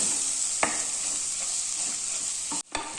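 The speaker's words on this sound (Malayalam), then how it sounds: "ഒരു അര ടീസ്പൂൺ മഞ്ഞൾപ്പൊടിയും കൂടി ചേർത്തിട്ട് നന്നായിട്ട് വഴറ്റി കൊടുക്കാം" Masala with chilli powder, coriander powder and turmeric sautéing in oil over a low flame keeps up a continuous hiss, broken by a few sharp spoon scrapes and a brief cut-out near the end.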